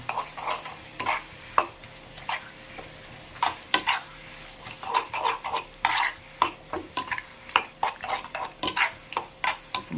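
Drumstick pickle mixture stirred in a pan, the spoon scraping and clacking in short irregular strokes over a faint frying sizzle, close and fairly quiet.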